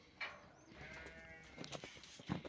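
Sheep on a rural homestead bleat from nearby in short, wavering calls, several cries in a row over quiet farmyard background.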